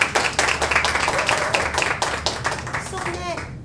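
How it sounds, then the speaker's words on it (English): A small studio audience on a talk show claps in distinct, fairly close, uneven bursts that thin toward the end, with a voice briefly rising over the final moments before it fades out. "Can we give her a round of applause?"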